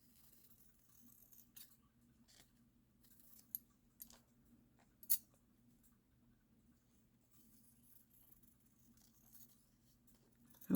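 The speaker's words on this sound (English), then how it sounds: "This is a paper scissors," Paper scissors with slightly dull blades snip paper in a quiet craft room, giving a few faint, scattered crisp cuts and rustles over a low steady hum.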